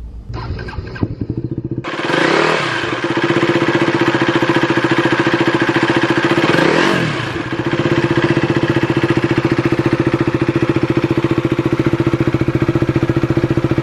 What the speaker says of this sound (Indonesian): Suaranya gimana? Unik sih, nggak sama kayak satu silinder pada umumnya.